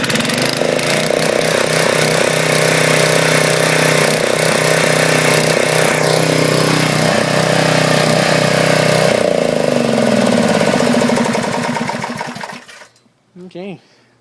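An 8HP Briggs and Stratton engine on a Powermate 3250 generator runs loud and close with a steady, buzzing drone, shifting pitch partway through, then cuts off abruptly near the end, leaving a couple of faint knocks.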